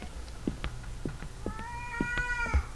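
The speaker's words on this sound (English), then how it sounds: "Oh, a cat." Meowing cat in the horror video game Erie, a few drawn-out rising and falling meows near the end, over soft game ambience with brief thumps and clicks.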